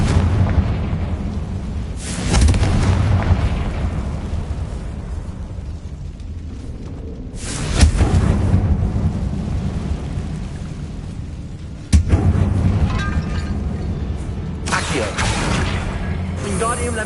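Confringo blasting spell explosions in the Hogwarts Legacy video game, several loud booming bursts at about 2, 8 and 12 seconds over a constant low rumble of game ambience.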